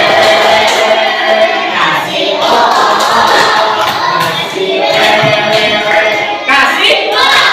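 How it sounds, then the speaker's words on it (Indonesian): A school class gives a group a rhythmic "WOW" round of applause, with many hands clapping and voices calling out together, loud and close, in bursts that fill the room. "kita kasih tepuk WOW buat kelompok 1"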